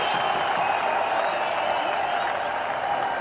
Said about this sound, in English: Crowds are jubilant.